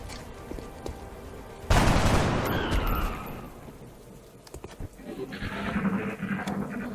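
A burst of gunfire in the X-COM Enemy Unknown video game, one loud sharp volley that decays over about a second, followed by quieter game effects.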